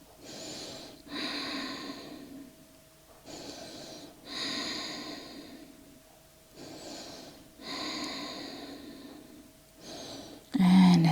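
Slow, deep breaths in a classical Hatha yoga pose, each long inhale and exhale audible and close, repeating in a steady rhythm over about ten seconds.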